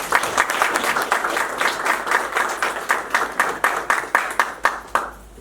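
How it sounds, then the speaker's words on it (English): An audience at a police clergy liaison party gives a round of applause: dense, steady clapping that thins into a few scattered claps before stopping. "give them a round of applause"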